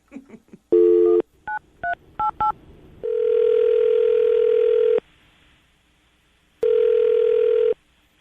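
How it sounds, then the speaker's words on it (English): A quick burst of telephone keypad tones, then two long ringback tones separated by a pause, clear and close, with no talking. "I'm going to dial the phone number right now, see if we can get her on the phone."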